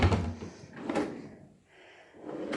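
Bathroom vanity drawers slide open and shut, a few quick wooden thuds and scraping rolls at close range with a brief quiet gap between them.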